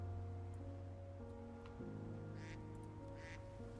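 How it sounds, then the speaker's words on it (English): Ducks quacking in a video game, faint distant quacks in two short clusters over a steady droning hum of game music or ambience. "Oh, we have ducks too, you hear them?"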